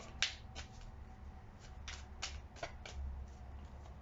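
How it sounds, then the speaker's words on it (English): Tarot cards are shuffled quietly up close, giving soft riffling bursts and a few crisp snaps at an uneven pace, with no talking. "Couple more shuffles."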